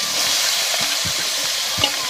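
Chicken fries in about 200 grams of oil over a low flame at a forest campsite, a continuous close sizzling hiss with faint scattered pops and crackles.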